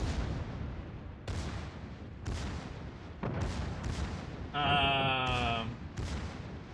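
The battleship Montana fires high-explosive shells in World of Warships, a string of heavy booming salvos about one second apart with long rumbling tails, one blast overlapped by a brief tonal warning chime.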